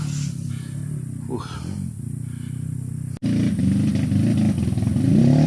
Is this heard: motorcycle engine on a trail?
yes